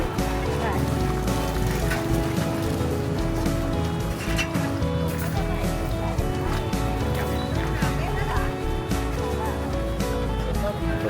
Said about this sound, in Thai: ลงเม็ดแล้วนะครับ